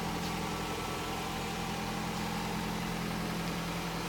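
A 2017 Nissan Rogue SUV engine idles with a steady low hum and faint vibration, even and unbroken for a few seconds, with no voices.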